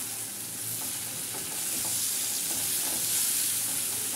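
A spiced mixture with salt, turmeric, green chillies and garam masala is stirred in a hot pan, a constant loud sizzle with faint scraping underneath, close and unbroken.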